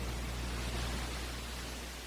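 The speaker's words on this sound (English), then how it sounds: "Another layer of noise is this white noise downlifter from Big White Noise Pack, Drop Noise number 4." Dense white noise downlifter from a sample pack fills the whole clip, a steady loud hiss with a deep low hum underneath that slowly thins out and fades.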